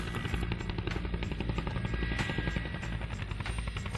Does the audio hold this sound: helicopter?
yes